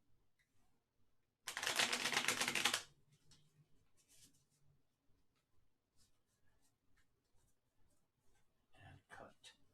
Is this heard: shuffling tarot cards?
yes